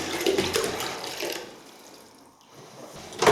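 Water filling a container to mix lining paper paste, heard as a close, rushing, splashing pour that eases off midway and then surges again near the end.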